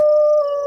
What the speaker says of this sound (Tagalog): ayan na naman yung pag-alulong na yan